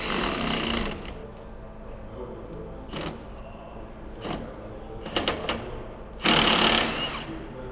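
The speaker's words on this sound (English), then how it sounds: "I'm using hand tools to loosen everything, and then switching to power tools" Power tools work loose crusty, corroded bolts on a Toyota 2JZ engine: several short bursts of an impact gun in a garage, rattling in near and loud, with a longer final burst.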